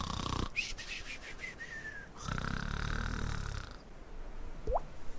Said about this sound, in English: I'm going to get the snoring noise out of the way